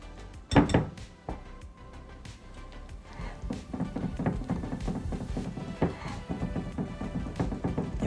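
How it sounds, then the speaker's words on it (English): A whisk works through a tiramisu truffle mixture in a bowl, giving a steady run of quick scraping clinks against the sides that grows a little busier toward the end, close and moderately loud with no talking. "we're going to take our whisk and we're going to whisk it up the rest of the way"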